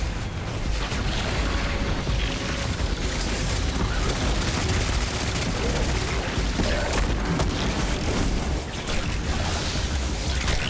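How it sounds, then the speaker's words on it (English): Dense, continuous gunfire from a Destiny 2 match as a player shoots at a box, loud rapid bursts and booms packed together throughout with no clear pauses. "I'm shooting a box."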